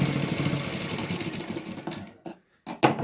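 Sewing machine stitching a cloth box bag, running in a steady continuous whir that stops briefly near the end and then restarts in short bursts.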